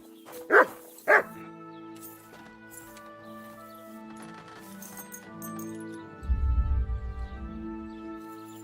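A dog in the video game Kingdom Come: Deliverance 2 gives two sharp barks close by over a soft music score, followed by a low growling rumble.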